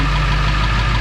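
Close, loud, steady low-pitched idle from a diesel truck engine with 431,000 miles, running just after a cold start.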